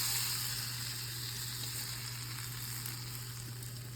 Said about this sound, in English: Let your butter sizzling.